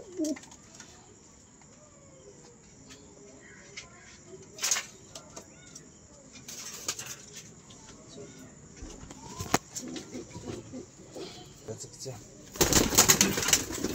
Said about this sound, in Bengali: একটা হচ্ছে মাদি পায়রা